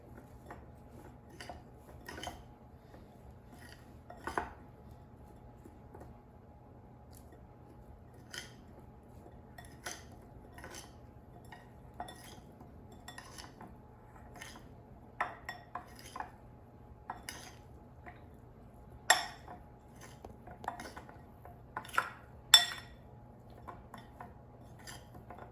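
Air fryer gnocchi tossed with Italian seasoning in a bowl, making scattered light clinks and scrapes of a utensil against the dish, sparse and quiet, alone without talk.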